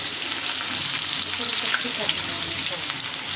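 Curry leaves sizzle in hot oil while a home cook prepares black pea sambare, a steady dense frying hiss with faint crackles throughout, close and fairly loud, with no talk.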